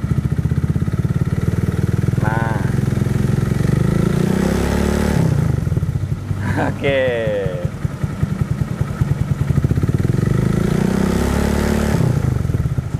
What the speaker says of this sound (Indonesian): Oke, itu suara knalpotnya.